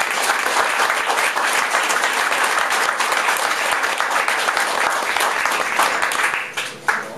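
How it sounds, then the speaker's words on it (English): A post-election crowd applauds the speaker's children, Bridget Carey, Samantha Daubert and Dennis Daubert, with dense, steady clapping that holds for several seconds before tapering off near the end. "Please give them a round of applause."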